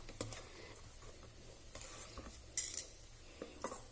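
Cooked millet rice stirred and mixed in a pan, soft scraping and occasional light metallic clinks of a utensil, quiet and close.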